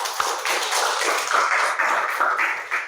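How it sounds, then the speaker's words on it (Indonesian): A classroom full of students applauds together, a steady, dense patter of hand claps lasting about three seconds at even loudness, with no talking over it. "kasih aplaus untuk semuanya"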